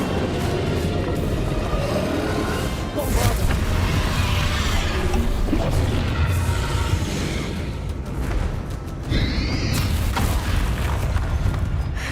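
Explosive spells Confringo and Bombarda blast in Hogwarts Legacy, with booming bursts and whooshes spread through a dense, continuous layer of game combat noise.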